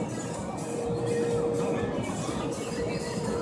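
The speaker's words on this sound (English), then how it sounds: "Okay, I hear the blow dryer." Powerful blow dryers in a tunnel car wash roar steadily around a car, a loud broadband whoosh with a faint steady whine, with no talk.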